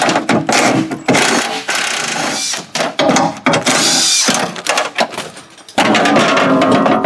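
A ratchet or power tool backs bolts out of a Toyota Solara door panel, loud and close, with sustained whirring bursts broken by short pauses and clicking mechanical rattles.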